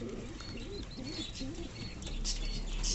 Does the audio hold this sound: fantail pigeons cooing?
yes